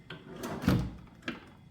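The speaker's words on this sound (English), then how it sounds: "Look at the bedside drawer here." A bedside drawer in an Aloft by Marriott hotel room slides open with a short scrape and a soft knock, followed by a second lighter bump, close by and moderately quiet with no talking.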